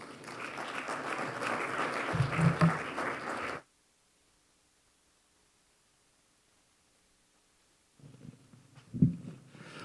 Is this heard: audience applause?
yes